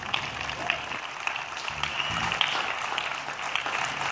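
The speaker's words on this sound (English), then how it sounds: "how about a round of applause for the Levitt Pavilion and Patty Dew," Crowd applause at an outdoor Levitt Pavilion concert before a university jazz band plays, a moderate, steady patter of clapping from a spread-out audience with some voices and cheers underneath.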